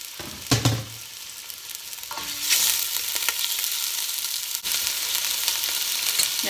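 Italian sausage browning in hot olive oil sizzles continuously, with clacks and scrapes of stirring early on and a frying hiss that swells louder in the second half, no voices.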